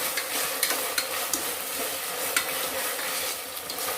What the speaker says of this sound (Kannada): ಹಸಿಮೆಣಸಿನ್ಕಾಯಿ, ಶುಂಠಿ ಬೆಳ್ಳುಳ್ಳಿ ಪೇಸ್ಟು, ಈರುಳ್ಳಿ ಚೆನ್ನಾಗಿ ಫ್ರೈ ಆಗಬೇಕು.